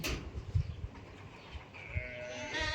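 Goats on a farm in Qatar bleat a few times at a moderate distance over steady farmyard background noise, with no talk.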